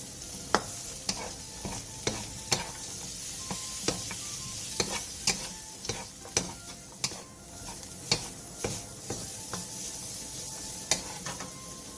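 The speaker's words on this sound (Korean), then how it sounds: "팬에 기름을 두른 뒤 어묵과 다진 마늘 반 스푼을 넣고 센 불에서 1분 정도" Fish cake and minced garlic stir-fried in oil over high heat, a constant sizzle broken by regular scraping spatula strokes roughly once a second, close and uninterrupted by speech.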